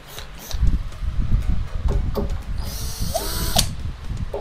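A power driver loosens screws on a Joson SUN 3.0 transformer, with loud, close whirring bursts, ratcheting clicks and a short rising motor whine near the end.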